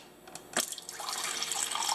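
Water pours from the dispenser of an LG refrigerator with a faulty ice maker, starting with a click and a few drips before a steady close stream into a container.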